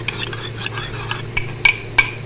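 Milk powder being stirred into a little milk for badami firni, a spoon clinking against the bowl in several sharp taps over a steady, soft scraping swirl.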